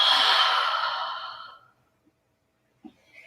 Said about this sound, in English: Big exhale out. Last one. Open mouth exhale.